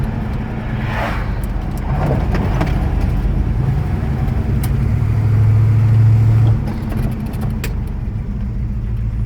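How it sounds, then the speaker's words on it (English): A 1969 Chevrolet El Camino SS with a big block 396 drives along, its engine a loud, steady low rumble with road noise, the pitch holding and then dropping away as the car brakes to a stop. "step on the brakes with your hands off the wheel"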